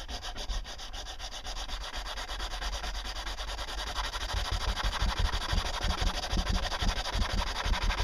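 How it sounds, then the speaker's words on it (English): Steady, continuous scratchy rasp of sandpaper rubbed back and forth by hand on a propeller, close up, gradually growing a little louder, with no talking. "All right, back to sanding."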